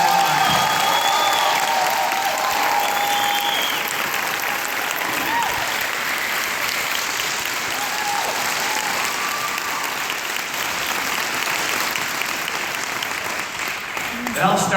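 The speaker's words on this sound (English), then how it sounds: "I would like everyone to give a huge round of applause for our corporate executive" An audience in a large room gives a sustained, loud round of applause for a corporate executive team, with clapping and scattered cheers holding steady throughout, while a voice carries faintly over the crowd.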